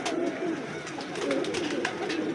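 Pigeons coo softly in a loft during a homing-pigeon session, low murmuring calls repeating over steady background noise, with no voices.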